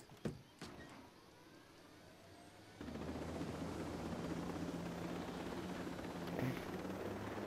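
A helicopter in Ghost Recon Breakpoint runs with a steady, loud rotor and engine drone after a few sharp knocks at the start, continuing without a break.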